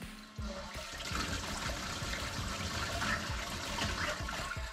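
An electric water pump pushes out a strong, steady gush of water near a boat, a close continuous rush with a low pulsing churn underneath and no voices.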